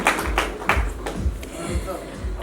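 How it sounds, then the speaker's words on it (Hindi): An audience at a 31st wedding anniversary celebration claps in a steady rhythmic beat, several distinct claps per second, mixed with voices talking over them. "एक बार जोरदार वाली तालियां हो जाए।"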